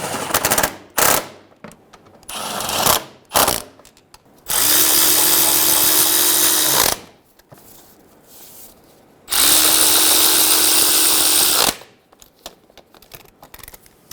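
A power tool snugs down bolts on a starter being installed in a 2011-2014 Hyundai Sonata, with short rattling impact bursts followed by two loud sustained runs of about two seconds each, separated by quiet pauses.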